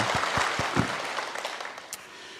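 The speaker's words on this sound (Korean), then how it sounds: "우리 그 모든 지체들을 향해서 감사의 박수를 드리겠습니다." A church congregation at a Sunday service gives a round of thankful applause, starting with a few distinct claps that quickly merge into a softer, fading patter.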